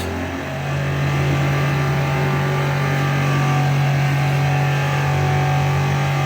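A Bee Pro honey press auger's electric motor runs at maximum speed, giving a steady, continuous mechanical hum with a strong low drone and no pauses.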